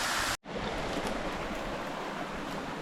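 Creek water tumbles down a series of small cascades, a steady broadband rush that drops out for an instant near the start and then resumes, with no talking.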